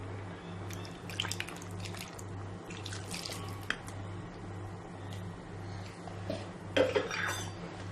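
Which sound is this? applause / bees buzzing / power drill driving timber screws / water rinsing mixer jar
water rinsing mixer jar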